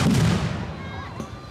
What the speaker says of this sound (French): Attention! Grenade! Grenade!